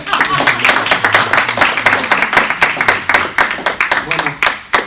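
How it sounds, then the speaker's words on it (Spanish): An audience claps after a presentation at an academic conference, a moderate burst of irregular, fairly close hand claps, with a voice speaking over the applause. "Creo que hay que aplaudir"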